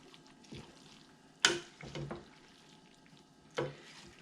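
Cornbread dressing is stirred together with liquid, giving faint wet scraping and a few sharp clinks of a utensil against the bowl, quiet and intermittent.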